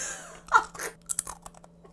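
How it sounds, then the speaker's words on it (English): Thinly sliced, freshly fried lotus root chips crunch as they are bitten and chewed up close, with a few crisp snaps and scattered crackles in a quiet room. "we have some lotus root chips. So can you try to do a food ASMR?"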